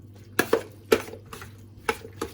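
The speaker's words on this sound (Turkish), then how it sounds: "Şimdi iyice salatamızı karıştıralım" Mushroom and sausage salad dressed with squeezed lemon being tossed in a bowl, a few sharp utensil clinks and scrapes against the bowl at irregular intervals over a low steady hum, close and moderately loud.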